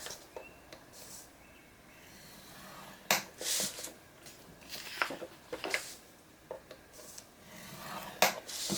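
A paper sheet for a folio is scored on a scoring board at 6.5 inches along the 11-inch side, giving quiet sharp scraping strokes and small taps in an irregular series, close and faint.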